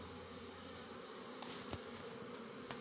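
Steady insect buzzing, a continuous droning hum of many honeybees close by, including overwintered bees, with a few brief sharper clicks or bumps.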